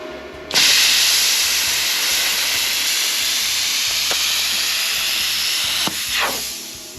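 A Vevor plasma cutter fitted with new tips cuts 10 gauge aluminum with a loud, steady hiss that starts abruptly and holds for several seconds, with a few faint clicks and shifts near the end.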